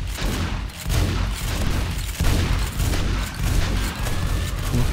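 Dense, continuous gunfire in the video game 7 Days To Die during a base attack, loud overlapping bursts with no pauses across the whole span.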